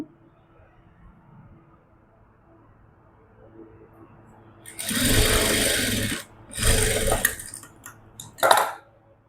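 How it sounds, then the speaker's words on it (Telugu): A sewing machine stitches folded kurta fabric in three short, loud, close bursts with pauses between them, after a quiet stretch of faint room noise. "ఈ విధంగా ఫోల్డింగ్ చేసి స్టిచ్చింగ్ చేస్తున్నాను."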